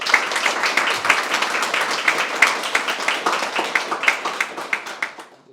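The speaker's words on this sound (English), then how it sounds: "a round of applause for them, please." Applause for volunteers at the inauguration of a community kitchen at a Vedanta centre: a room of people claps steadily for several seconds, individual claps standing out near and crisp, fading toward the end.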